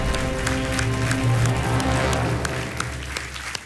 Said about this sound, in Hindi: बहुत बहुत तालियों के साथ आपका हम